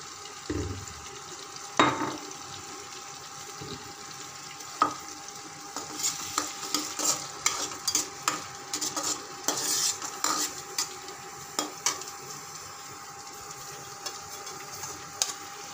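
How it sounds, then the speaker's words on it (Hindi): Rice frying in oil in a kadhai while being stirred, with an irregular scraping of a utensil against the pan and occasional clinks above a steady low sizzle, alone with no talk. "आज के चावल फ्राई में थोड़ा तेल ज़्यादा ही लग रहा है क्योंकि कढ़ाई में तेल था ना"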